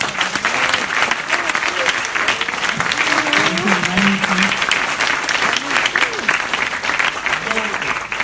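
A crowd claps at a startup demo day, broad sustained applause with some voices and calls mixed in over the clapping.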